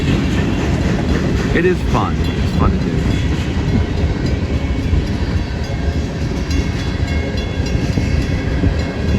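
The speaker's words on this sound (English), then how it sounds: "I'm actually really getting a train right here" A train rumbles past close by with a steady, loud roar and rattling wheels, while a person speaks briefly over the noise.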